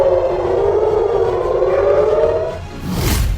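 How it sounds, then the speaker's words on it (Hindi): An air-raid siren in Israel during Hamas rocket attacks holds a long sustained wailing tone, then drops away, with low rumbling background noise throughout. "हर तरफ सायरन बज रहे हैं"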